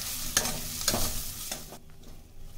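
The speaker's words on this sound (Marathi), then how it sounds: "आता हे वाटण अजून 1-2 मिनिट चांगलं भाजून घ्यायचं" Ground masala paste sizzles and is stirred in a hot pan for a Maharashtrian amti, with soft scraping strokes and frying crackle up close, then quieting abruptly near the end.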